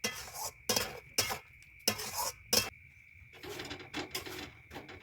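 A spoon stirs egg tarka in a pan after garam masala is sprinkled over it, giving repeated bursts of scraping and metal clatter against the pan over a faint sizzle, close and fairly quiet.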